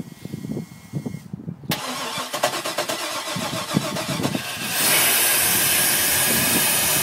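A Volvo Penta 5.7 GI boat engine with a repaired intake manifold cranks with rhythmic starter pulses, then catches and settles into a loud, steady running roar with hiss.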